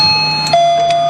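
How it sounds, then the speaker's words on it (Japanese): An indoor electronic doorbell chimes two tones, a bright ding then a lower dong, loud and close with no one talking. "ピンポンうるさい"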